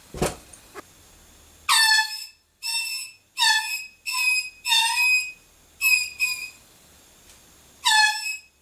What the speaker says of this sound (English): what you first heard was my air horn failing as it ran out of air